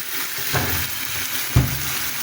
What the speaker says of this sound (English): Add some soy sauce with your tomato